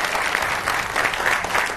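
A studio audience at a Hindi TV political debate show claps in a steady burst of applause, full and close, with no voices over it.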